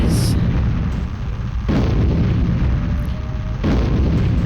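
Hydrogen zeppelin exploding in the Storm Winds video game, heavy booming blasts with a rumbling roar, two big surges of deep explosive noise following each other, loud and close without talk.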